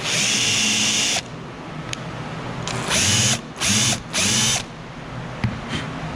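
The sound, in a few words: cordless drill countersinking a screw hole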